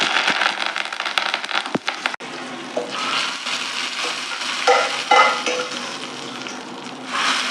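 Curry leaves drop into hot tempering oil for Tirunelveli paruppu kulambu, with a sharp crackle at first and then a busy, steady sizzle and spatter close by.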